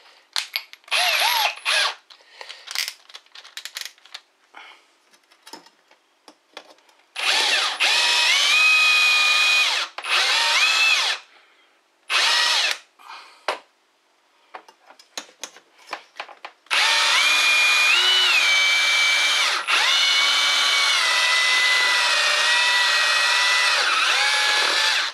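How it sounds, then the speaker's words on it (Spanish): A power drill fitted with a titanium-coated HSS bit, whirring in short bursts with clicks between them, then long, loud, sustained runs as it bores. "Y ahora vamos a probar la broca"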